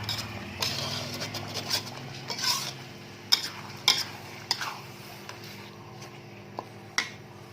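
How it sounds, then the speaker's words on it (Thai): Spoon stirring fish curry in a pot, with repeated scraping and clinking strokes against the metal, close and clear, and a faint simmering hiss underneath. "คนให้ทั่วก่อน เราก็รอให้มันเดือดก่อนนะคะ"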